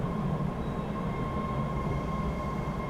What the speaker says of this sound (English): that's life on the subway, though